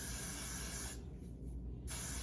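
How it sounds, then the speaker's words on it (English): Got2b hairspray sprayed onto wig glue during a synthetic wig install, a steady aerosol hiss lasting about a second, close and fairly quiet against background noise. "Spray your Got2b on top of the glue."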